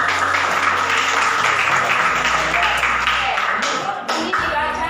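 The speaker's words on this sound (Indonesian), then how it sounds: "Tepuk tangan dulu." A classroom of students claps together in a loud, dense burst, with desks and feet shuffling beneath; the applause thins and fades toward the end amid a couple of sharp taps.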